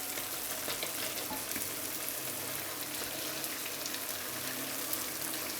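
Gluten-free churro rings deep-frying in hot oil, a dense, even crackling sizzle that continues steadily without a break, fairly close and with no voices.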